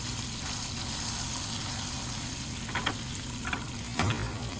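A Mediterranean chicken patty fries in a pan with a continuous close sizzle and crackle, broken by a few sharper pops and spatters near the end.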